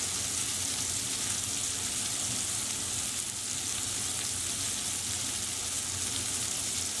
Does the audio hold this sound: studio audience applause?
no